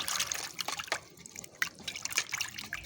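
A muddy toy is washed in water, with close splashing, dribbling and dripping in uneven bursts and no talk.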